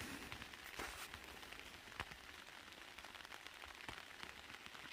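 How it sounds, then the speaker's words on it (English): Rain patters steadily on a tarp shelter on the Appalachian Trail in Maine, a soft, faint, continuous drumming with occasional louder individual drops. "Pitter patter of rain on the tarp."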